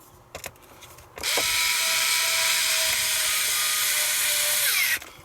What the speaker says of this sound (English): I've got the screwdriver here.